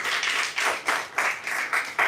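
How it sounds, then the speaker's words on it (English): An audience at a live wellness session claps harder, giving a run of regular, firm bursts of clapping at a brisk even pace, close and fairly loud. "Please clap harder."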